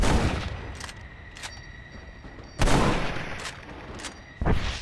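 Gunshots in the western game Red Dead Redemption: a few sharp cracks spaced apart, with two louder close blasts near the end, over a faint steady background.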